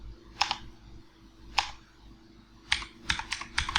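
Keystrokes on a computer keyboard come in sparse single clicks and then a quicker little burst, close-up and fairly quiet over a faint steady hum.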